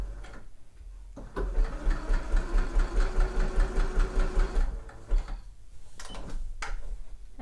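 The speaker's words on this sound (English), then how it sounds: "you are sewing around a curve because you're sewing around that neckline" A sewing machine stitches around a sweatshirt neckline, running in a rapid, rhythmic whir for several seconds before pausing, then starting again briefly, close and clear.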